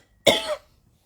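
A single short, close cough bursts out once and stops, loud and harsh, with quiet afterward and no talking.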